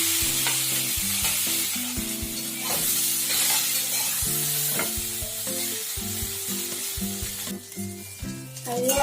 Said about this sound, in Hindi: तऽ ई आलू भूजै छी।